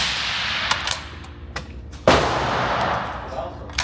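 A close outdoor gunshot fired through a Black Thunder Chicken suppressor gives one sharp report with a brief ringing decay, preceded by faint clicks and followed by a low tail.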